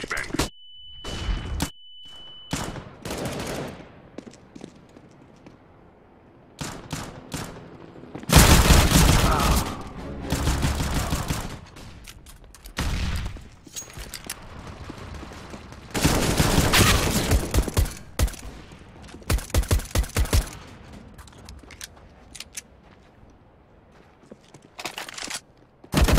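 Bursts of rapid decoy-grenade gunfire from the video game CS:GO crackle in several loud clusters, separated by quieter stretches of game ambience and scattered shots.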